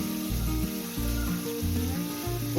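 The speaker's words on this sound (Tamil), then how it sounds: "லைட்டாக அந்த எண்ணெயில் அந்த பட்டரில் வதங்கினா போதும்" Food frying lightly in oil and butter for an egg burger, seasoned with pepper and salt, gives a steady close sizzle running through, with no talk.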